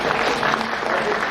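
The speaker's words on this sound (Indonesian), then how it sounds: "Tepuk tangan." Audience applause at a doctoral promotion ceremony at a university postgraduate campus in Makassar, a brief, dense burst of clapping that stays steady and fairly loud.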